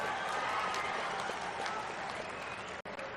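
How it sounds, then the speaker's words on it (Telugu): A crowd applauds steadily at an outdoor political rally, a dense wash of clapping that holds level and then briefly cuts off near the end. "కార్యకర్తలందరూ కూడా చప్పట్లతోనే కేసీఆర్ గుండెలు బలగొట్టాలి"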